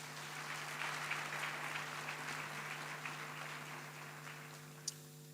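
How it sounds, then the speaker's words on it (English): Graduation ceremony audience applauding the academic staff, a sustained, faint crowd clapping in a large hall with a steady hum beneath it and one sharp click near the end. "Let us also give our academic staff a round of applause"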